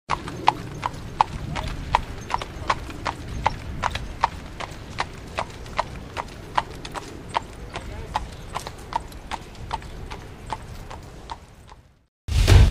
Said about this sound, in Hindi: एक बच्चा जो है घोड़े से स्कूल आ रहा है